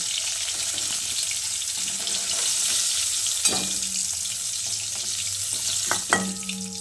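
Pieces of young jackfruit fry in hot oil for a Bengali echor kosha, giving a steady, close sizzle throughout with a couple of sharp utensil clinks near the end and no talking.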